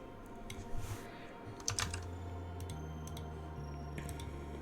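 Mouse clicking at a desk while posing a Sims character in Blender, a run of quick close clicks and taps over a low steady hum, with no talking.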